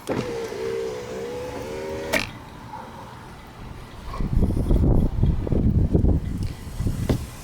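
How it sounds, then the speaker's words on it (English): The power window of an old car, with a solar-powered ventilation unit fitted against the glass, whines steadily as it closes for about two seconds and stops with a sharp thunk. Low rumbling and wind-like noise follow. "Close the window."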